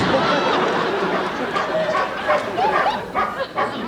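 A dog barks and whimpers indoors in short yips and whines, with people chattering over the noise.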